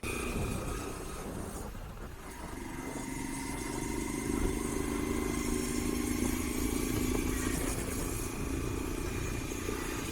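Motorbike ride on a night trip from Majengo toward Kisumu, with a steady engine drone and road rumble running continuously at close range, swelling slightly midway.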